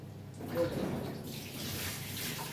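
Water rushing strongly from a tap or pipe in a kitchen, a steady broadband gush that swells in and holds loud and close with no talk over it.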